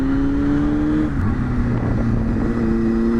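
A 1999 Honda Hornet 600 motorcycle engine idles steadily and loudly nearby, its low hum shifting pitch slightly partway through, with no voices.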